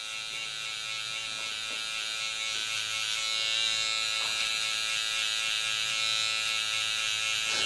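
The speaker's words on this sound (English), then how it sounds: "I'm going to get the liner, the trimmer, to just smooth this out so it's nice and bald" An electric hair trimmer runs while smoothing the bald area of a burst fade haircut, giving a steady, close, high-pitched buzz that holds even and continuous with faint contact changes and no talking.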